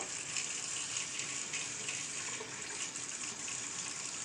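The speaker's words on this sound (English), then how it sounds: "Let's wash off my hands." Running tap water pours steadily as hands are washed beneath it, a continuous, even hiss close by with no pauses.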